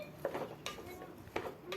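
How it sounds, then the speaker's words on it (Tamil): A spoon scrapes and clinks against a pan while tomatoes are stirred into biryani masala, a few soft knocks and scrapes heard faintly and close, with no talk. "தக்காளி சேர்த்து நல்லா கலந்து விட்டுறலாம்."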